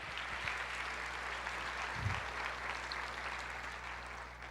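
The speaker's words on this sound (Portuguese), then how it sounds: "Aplauda ao Senhor." A church congregation applauds in a steady, even wash of many clapping hands, heard at a distance and low in level, with a constant electrical hum beneath and a brief low thump partway through.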